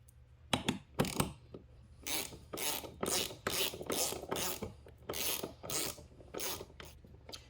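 A ratchet tightens screws on a 1998 Yamaha Warrior 350 engine with a 366 big bore, giving a close run of rapid clicking bursts in irregular strokes, moderately loud with no talk.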